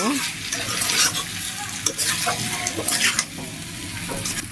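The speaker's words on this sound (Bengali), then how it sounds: "ভালো মতো মিশিয়ে দেবো খুন্তি দিয়ে, বারবার নাড়াচাড়া করে যাতে মশলাগুলো চিকেনের সাথে ভালো মতো মিশে যায়" Chicken tossed with biryani spices in a hot pan, a metal spatula scraping and stirring in repeated strokes over a steady close sizzle, with occasional sharp clinks against the pan.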